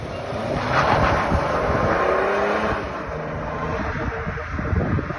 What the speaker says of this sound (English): 530D with the turbos from a 535D. I really like the F10 with the N57 engine.